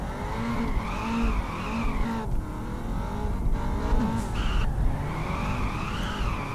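A Nissan GT-R drift car tuned to 800 horsepower, in the Peak Angle racing game, screeches through a long tire skid while its engine howls and wavers in pitch, loud and continuous throughout.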